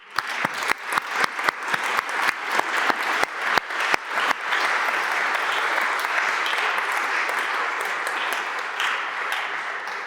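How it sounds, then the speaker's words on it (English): Audience applause for three award-winning students at a student-leaders dialogue event, starting with a few sharp individual claps that quickly swell into sustained, dense clapping from a full room, steady to the end. "So please join me all in a big applause for our three award-winning students."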